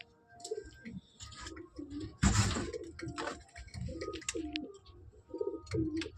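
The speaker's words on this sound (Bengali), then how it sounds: "তো এই ওড়ানোর লফটে পায়রাগুলোকে ছেড়ে দেয়।" Pigeons in a flying loft give repeated soft, low cooing phrases at a moderate distance, with a brief loud burst of flapping or rustling partway through and scattered light clicks and knocks.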